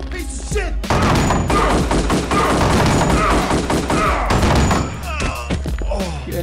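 Heavy bursts of gunfire from the shooter game Kingpin, loud overlapping shots and thuds packed into dense volleys with brief lulls, a voice speaking over parts of it.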